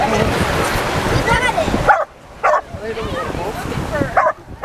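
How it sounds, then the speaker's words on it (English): A dog yips and barks in short bursts near a beach on a Carnival Horizon cruise stop, mixed with people talking and splashy background noise. "This is the dog."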